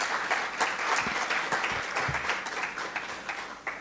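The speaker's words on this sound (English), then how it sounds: "Another round of applause." Symposium audience applauding a professor in a lecture hall, a steady wash of many hands clapping at moderate distance, sustained evenly throughout with no talk over it.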